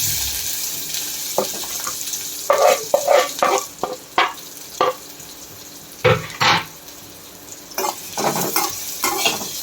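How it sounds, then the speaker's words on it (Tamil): Asafoetida and crushed garlic fry in sesame oil for idli podi, a constant sizzle under repeated brisk scrapes and clatters of a spoon stirring in the pan, close and fairly loud. "இந்த பெருங்காயம் வறுத்து அதே எண்ணெயில்"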